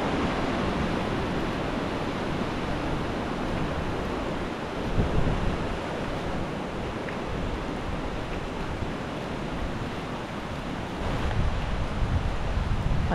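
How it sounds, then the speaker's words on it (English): Strong autumn wind on Dartmoor buffets the microphone in a constant, heavy rush of noise, with occasional louder gusts and no voices. "it's just too windy"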